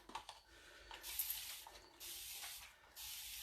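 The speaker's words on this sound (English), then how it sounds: "So I just take my rag and then I take my mister bottle and I'll spray it." A handheld mister bottle sprays water onto a rag in three quick, faint bursts of hiss, with a soft trigger click before them.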